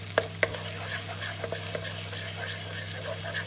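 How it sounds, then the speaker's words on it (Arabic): Water boils in a pot on the stove with a steady soft bubbling hiss over a low hum, broken by a few sharp clicks early on. "هنا عندي الماء كيغلى"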